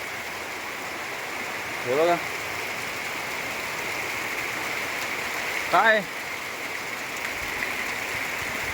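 Heavy monsoon rain in June pours as a steady dense hiss of water, with a person speaking briefly twice over the downpour.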